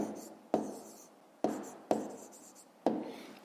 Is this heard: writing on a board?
yes